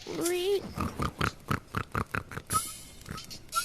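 A pig in the video game The Under Presents oinks in a quick series of short, rhythmic grunts, loud and close.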